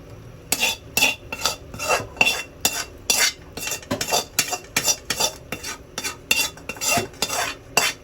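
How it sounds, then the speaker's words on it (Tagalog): Sautéed shrimp and pork cracklings tipped into a pot of boiled mung beans, heard as a run of sharp rhythmic scraping and clinking of a utensil against the pan, close and fairly loud, with a faint sizzle beneath. "Sasalin ko na yung aking ginisang hipon. Saka yung chicharon sa nilagang munggo."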